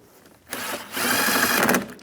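A power driver whirs while tightening the side mirror bolts on a 2015-2020 GMC Yukon, a single loud continuous buzz lasting about a second and a half after a brief quiet lead-in.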